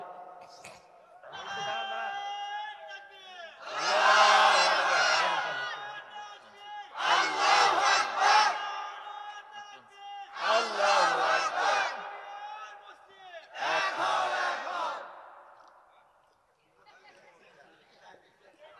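A crowd at a humorous Bangla sermon (waz) shouting takbir, Allahu Akbar, in four loud massed bursts with short pauses between them, the roar filling a large gathering.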